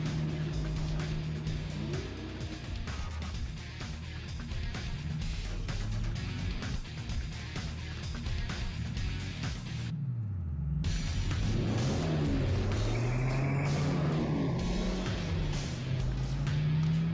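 A car engine rumbles steadily from inside the vehicle, a constant low drone with shifting tones and a brief dropout midway, no talk.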